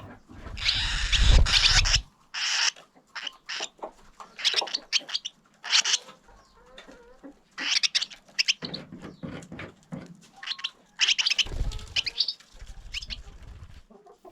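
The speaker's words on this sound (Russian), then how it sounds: "Порой желание поработать настолько велико, что птички еще и спорят друг с другом у гнезда." Barn swallows at a nest in a barn give repeated chirps and twittering calls in uneven bursts, with brief wing flutters and squabbling between birds, close and fairly loud.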